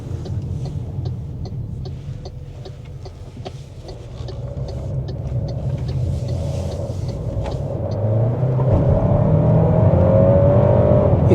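Cabin sound of an MG HS 1.5T turbo SUV with a dual-clutch gearbox accelerating on the road, a steady engine drone rising smoothly in pitch and loudness toward the end.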